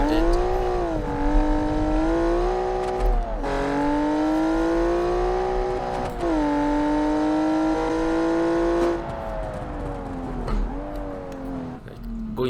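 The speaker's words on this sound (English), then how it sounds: "Hopefully you guys can hear me, because the engine is a lot louder now." A Group B rally car engine in BeamNG, Porsche 911 inspired, revs and holds high, whining pitches, shifting up and down through gears with a steady roar and no talking.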